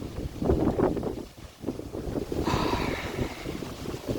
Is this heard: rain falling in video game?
no